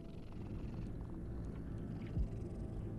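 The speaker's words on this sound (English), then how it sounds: "You'll be able to pet a cat. Please pet the cat." A cat purrs while being petted in Mortal Shell, a soft continuous low rumble with a faint rhythmic pulse that stays even and close throughout.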